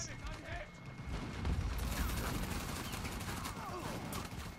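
Sustained gunfire in an Uncharted 4 multiplayer match: dense, rapid bursts and shots rattle on continuously for several seconds, with a voice talking over them.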